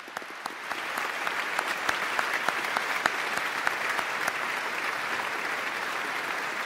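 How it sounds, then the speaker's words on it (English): Audience applause for award recipients at the Duke University Founder's Day Convocation, a large hall full of sustained, even clapping with sharp individual claps standing out, steady from start to finish. "I'd like to now have us applaud and offer our congratulations to all of our recipients"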